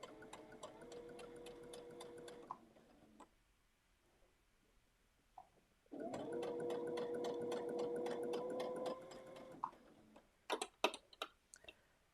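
Sewing machine running a long straight stitch, a steady rapid whirring hum in two long runs separated by a quiet pause, ending in a few sharp clicks and clunks.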